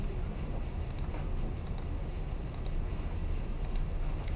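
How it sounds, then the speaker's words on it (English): Light, rapid keystrokes on a computer keyboard during a recorded lecture on R, with faint scattered clicks over a steady background hiss and no speech. "I'm just going to type that."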